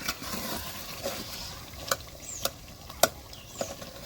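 Handi chicken being stirred in a pot, with soft scraping and a few sharp clinks of the spoon against the rim over a low background hiss.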